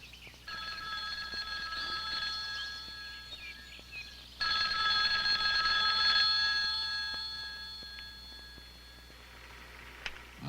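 An old landline telephone bell rings in long repeated bursts, fairly loud and close, with a quiet pause between rings and no voices.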